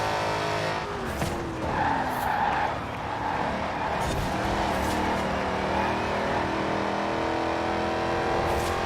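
A Dodge Charger Daytona in Forza Horizon 4 drives hard, its engine roaring steadily while tires skid and squeal in repeated bursts, loud and close with no talking.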